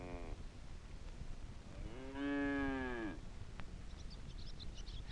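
One cow lets out a long, full moo of about a second, loud and close, preceded by a brief faint animal call and followed by soft background noise with faint high chirps.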